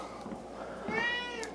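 Cats meowing for Meow Mix Market Select cat food indoors, with faint, close, drawn-out meows rising over a low background hum, a higher whiny meow near the end, and no talking.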